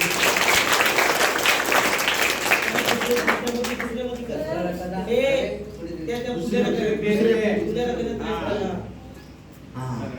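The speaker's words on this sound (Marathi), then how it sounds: "टाळ्या वाजवायचं" A burst of applause from a group at a school science quiz competition fills the first few seconds, then fades as people start talking and chattering.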